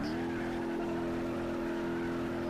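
Cadillac car engine in a racing video game, a steady loud drone holding one pitch throughout, with no voices over it.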